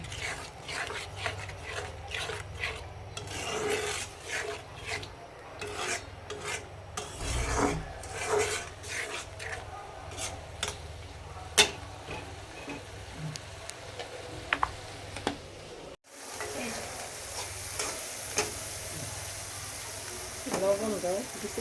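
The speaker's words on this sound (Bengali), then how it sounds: "এখন আমার মশলাটা কষাইতাছি।" Dried loitta fish and spices being stir-fried in a pan, with steady rasping scrapes and rubbing strokes of a utensil against the pan, close and continuous.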